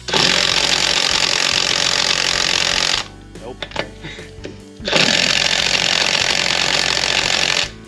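A Kobalt cordless impact wrench tries to loosen lug nuts on a Subaru, loud sustained rattling hammering in two long bursts separated by a short pause with clicks and handling noises.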